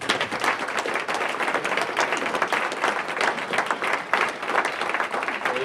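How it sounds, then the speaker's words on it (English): A crowd at an annual meeting awards luncheon claps and applauds steadily and enthusiastically, a dense patter of many hands sustained throughout. "I think we give her a round of applause."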